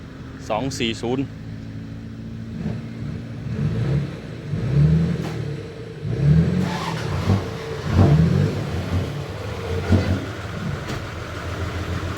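A large six-wheel truck's engine revs up repeatedly in several surging bursts, nearby and fairly loud, with a person talking briefly at the start.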